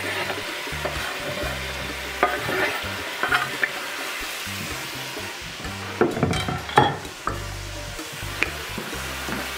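Chopped onions and peppers sizzle in a pan for stuffed pepper soup, a steady hiss close by with repeated scraping and knocking of a spoon stirring them, louder in bursts.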